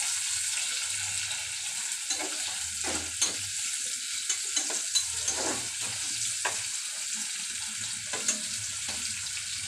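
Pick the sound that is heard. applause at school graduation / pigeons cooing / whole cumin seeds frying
whole cumin seeds frying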